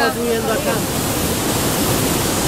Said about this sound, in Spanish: No, el río se nos estaba subiendo allá, ya quedó subiendo.